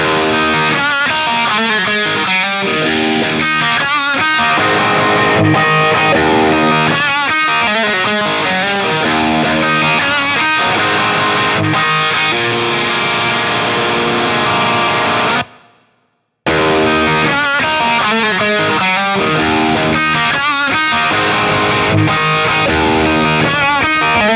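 An electric guitar plays through a simulated Marshall amp recorded with a Shure 57 microphone. The riffs are dense, distorted and loud, broken by one short silence before the playing resumes.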